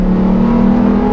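A Lamborghini Huracan STO engine holds a loud, steady high-revving drone, close and sustained for about a second with no talk over it.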